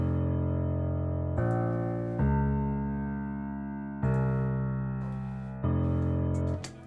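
Dark piano bass notes in FL Studio play as four long, sustained low tones, each struck cleanly and slowly fading before the next, with no talking.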